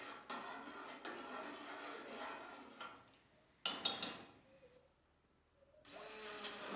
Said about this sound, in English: Now I use the hand blender to blend this product to make the creamy.